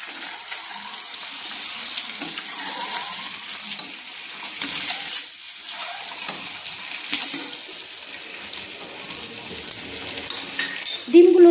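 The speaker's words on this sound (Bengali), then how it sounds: "ডিমগুলো দিয়ে আমি মশলার সঙ্গে কিন্তু ভালো করে একটু কষিয়ে নিচ্ছি।" Fried eggs being stirred and sautéed in a spice masala in a pan, with soft continuous sizzling and intermittent scraping of a spoon, fairly quiet and close, no talking.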